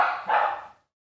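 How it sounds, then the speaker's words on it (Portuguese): A pet dog gives a couple of quick close barks that run together and then stop, followed by silence. "se vocês estão escutando o barulho do meu cachorro, é porque o meu cachorro tá latindo mesmo"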